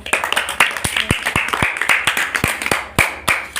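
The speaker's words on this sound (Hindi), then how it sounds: "ताली बजाओ" A small group clapping hands together in quick, uneven bursts after a devotional aarti song, sharp nearby claps in a loose rhythm with no talk.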